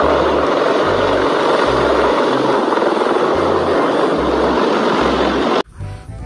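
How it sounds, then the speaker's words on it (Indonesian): A loud, close helicopter drones steadily with a rhythmic rotor thump, then cuts off abruptly near the end. "ini ada helikopter militer."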